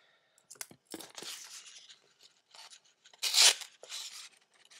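Small cheap Swiss Army-style knock-off pocketknife slicing through already cut-up paper, a series of brief dry rasping tears and crinkles, close and fairly quiet, separated by short pauses.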